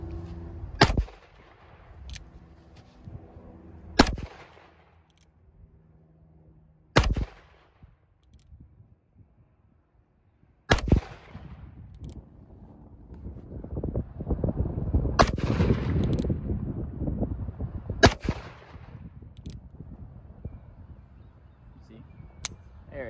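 Colt Single Action Army revolver firing .357 rounds: six sharp, loud gunshots spaced a few seconds apart, with rustling handling noise and murmured talk between shots.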